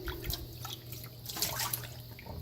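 Tap water runs steadily into a kitchen sink as a dish is rinsed, a continuous splashing hiss with small drips and clatters, close and fairly quiet with no talk.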